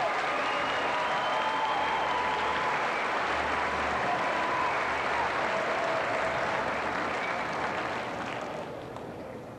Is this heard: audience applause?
yes